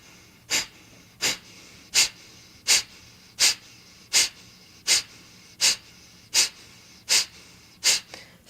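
Rhythmic, forceful breaths in a yoga class breathing exercise, about a dozen sharp, evenly spaced airy bursts repeating roughly every three-quarters of a second, close and clear with no talk.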